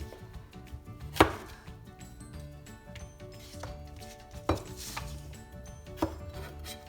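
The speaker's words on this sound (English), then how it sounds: "I'm going to just cut the tops and bottoms off of these." A knife chops the tops and bottoms off cleaned radishes on a cutting board, with a few sharp, separate cuts spaced a second or two apart against quiet kitchen background.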